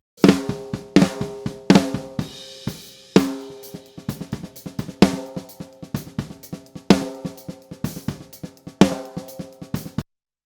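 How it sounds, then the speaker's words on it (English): A ringy, open snare drum struck alone in a steady pattern, crisp hits with a bright rattle and short decays, close and loud. "So this is our snare."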